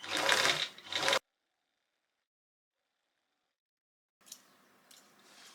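A sewing machine stitches the side seam of a gingham dress in one brief, loud burst of fast whirring. Near silence follows, then faint handling sounds at the end.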